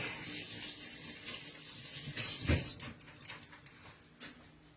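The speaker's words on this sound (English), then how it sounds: "Let me just rinse my hands real quick." Hands rinsed under a running kitchen tap, a soft steady stream of water splashing into a sink with a louder gush in the middle, fairly quiet and with no talk.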